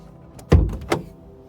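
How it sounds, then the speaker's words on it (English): Campervan side door unlatched from the inside and pushed open: a low thud at about half a second, followed by a short slide and a second lighter clunk, close and fairly loud with no voices. "and then push the door open."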